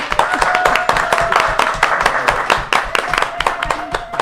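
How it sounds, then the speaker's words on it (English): Audience applause at a Middletown Area town hall meeting, a steady dense patter of many hands clapping throughout, with faint voices mixed underneath. "Can we give Ken a big round of applause?"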